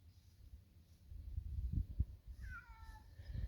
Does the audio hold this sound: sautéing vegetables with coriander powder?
no